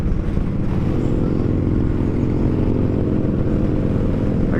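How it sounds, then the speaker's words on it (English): A motorcycle engine rumbles loud and steady throughout as a biker approaches and passes on the road, heard from another moving motorcycle. "We got a biker coming up on us right here."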